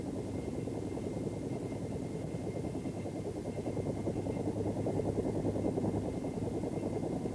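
A Bell AH-1 Cobra attack helicopter in flight, its rotor giving a steady, fairly faint throbbing chop over a low engine rumble, continuous with no voices.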